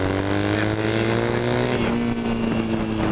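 A Triumph Thruxton 900 café racer with a 360-degree crank and a British Customs slip-on exhaust drones steadily under load at about 40 mph, its deep, even exhaust note rising slightly amid wind noise.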